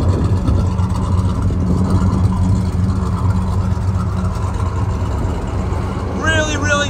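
The 400 V8 engine of a 1967 Pontiac GTO idles steadily with a deep, rumbling low-end throb, close and continuous throughout.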